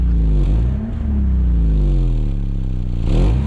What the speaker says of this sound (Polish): Przegazowanie, jak widzicie